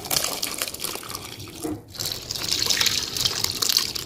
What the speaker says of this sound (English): Now sieve the milk solids from the whey.